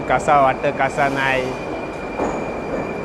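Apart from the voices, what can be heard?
metro train arriving at station in Uzbekistan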